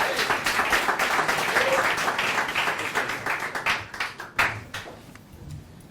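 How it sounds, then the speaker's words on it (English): A London startup-pitch audience applauds a presenter, a dense burst of clapping that thins into scattered individual claps and fades out toward the end. "A round of applause for Wizam."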